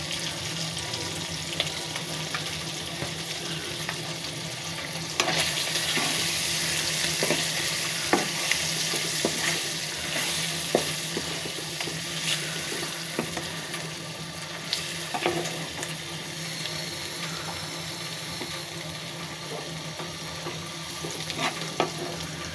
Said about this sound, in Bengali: মাছটা ভাজা হয়ে গিয়েছে